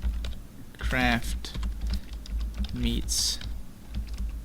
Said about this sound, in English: if I want to type in the text here, what I can do is just go ahead and double click, and I'll type Minecraft